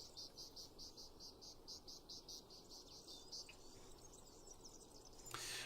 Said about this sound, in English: a peaceful meadow filled with flowers and crickets